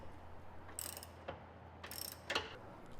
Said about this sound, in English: Unscrew the right and left inside bolts using a magnetic 19mm socket and 30cm extension.